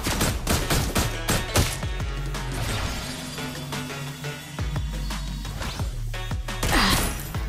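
Rapid gunfire from the hero Granger in the Mobile Legends video game, a dense barrage of sharp shots and impacts layered with game effects and music, loud and continuous.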